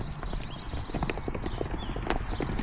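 A miniature horse runs about, its hooves clip-clopping in a quick, irregular rhythm at close range.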